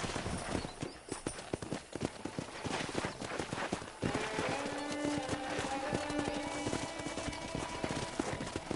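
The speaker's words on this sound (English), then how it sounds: "there's a pack of wild horses nearby" Wild horses gallop in Red Dead Redemption, a dense, rapid clatter of hooves running continuously and close throughout, with a sustained tonal layer joining in partway.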